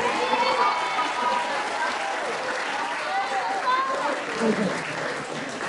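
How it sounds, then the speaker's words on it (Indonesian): A school audience of students claps again, a sustained, fairly loud wash of hand claps throughout with faint voices mixed in beneath. "Sekali lagi mari kita beri tepuk tangan semuanya."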